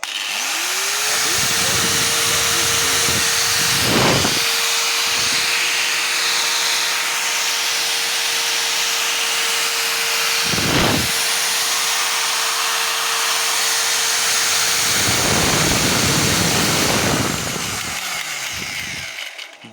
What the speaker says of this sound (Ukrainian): Ось нажимаю кнопку на болгарці і дивимося, що в нас зараз вийде